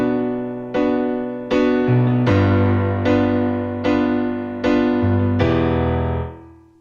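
Piano plays repeated quarter-note chords from an arrangement, seven or so full sustained chords struck at an even pace, the last one ringing out and decaying, loud and close with no talking.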